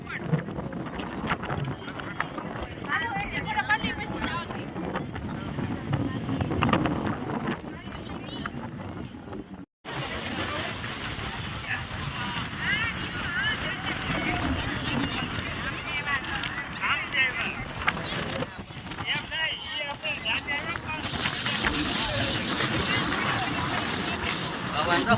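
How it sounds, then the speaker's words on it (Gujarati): Blustery wind on Banbha Dungar hill near Surat rumbling and buffeting the microphone, with a babble of people talking in the background. "પવન"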